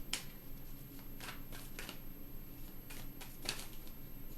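A deck of tarot cards is shuffled close by in a quiet room, with soft riffling and several sharp, crisp card snaps spread through a few seconds.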